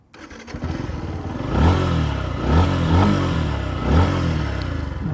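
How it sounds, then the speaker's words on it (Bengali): A Yamaha FZ-S Fi V4 motorcycle starts up and idles close by, its exhaust giving a smooth, steady thrum broken by three rhythmic revs that swell and fall back. "বাইকটা স্টার্ট করার সাথেই এক্সজস থেকে স্মুথ অ্যান্ড কিউট একটা শব্দ আসতেছে"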